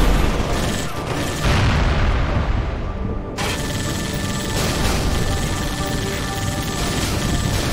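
Heavy grenade explosions in Halo: Spartan Strike, a couple of loud booming blasts with crashing debris and rumbling aftermath, sustained and close throughout.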